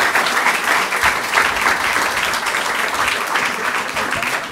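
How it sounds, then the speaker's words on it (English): Warm audience applause for a guest speaker at a talk with India's Moon Man, a dense, even roar of many hands clapping that stays steady and fairly loud throughout. "If I can invite a warm round of applause for our guest speaker."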